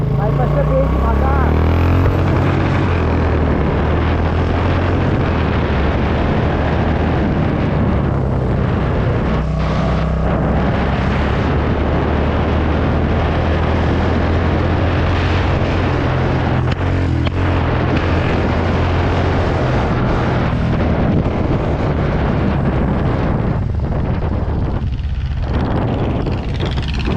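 A Royal Enfield Bullet 350 BS4 rides along an open bypass road, its engine and exhaust giving a loud, sustained rumble over strong wind buffeting. A voice speaks over the engine noise throughout.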